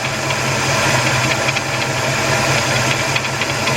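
Under the hood of a running 1977 Buick LeSabre with a 350 engine, the power steering pump pulley makes a steady, close, ticking, knocking whine over the engine's continuous idle, with no talk.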